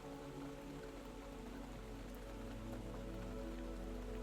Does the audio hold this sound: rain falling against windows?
yes